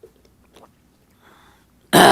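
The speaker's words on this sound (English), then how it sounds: "dry cough that just won't go away." During a city council meeting, after near silence with faint shuffling, a single sharp, dry cough bursts out loudly at the very end.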